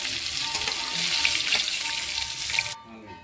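Small hilsa fish fry in a pan of oil with a loud, even sizzle that stops abruptly near the end, leaving quiet room tone.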